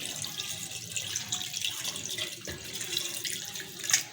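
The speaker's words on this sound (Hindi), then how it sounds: "अब मैं इसमें 2 गिलास पानी डालूंगी।" Water poured into a pressure cooker holding meat for aloo gosht, a soft, continuous splashing trickle that runs for about four seconds, quiet and close, with a brief louder splash near the end.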